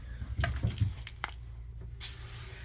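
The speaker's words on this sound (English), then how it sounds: "I'm going to spray some scrubby bubble on it and wipe it down." Scrubbing Bubbles cleaner sprayed onto a dirty fan, a few short, close spray bursts and hisses with soft handling noise between them, no talking.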